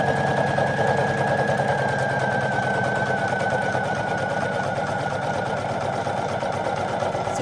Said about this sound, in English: So far it does a great job when it's stitching things out.